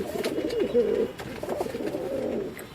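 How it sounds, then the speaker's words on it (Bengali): An American Fantail pigeon, a fancy show breed, coos in a low, soft, rolling murmur that swells and fades in two long phrases, close by and alone. "প্রথমে যে কবুতরটি দিয়ে ভিডিও শুরু করেছি, এটা হচ্ছে আমেরিকান ফান্টেল"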